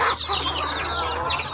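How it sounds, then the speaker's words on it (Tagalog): Native chickens cluck loudly and close at a rural farm in Glan, with overlapping calls from a flock and no talk. "Daming manok, grabe."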